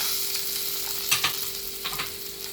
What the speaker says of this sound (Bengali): এবার আমি টমেটো কুচি আর কাঁচা লঙ্কাটা দিয়ে দেব